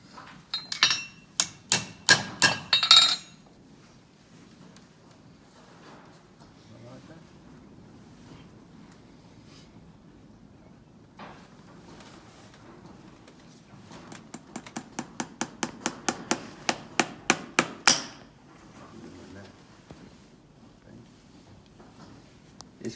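A farrier's hammer driving nails into a hard hoof cast plate, heard as two bursts of rapid, ringing metallic taps, one early and one later, separated by quieter outdoor background.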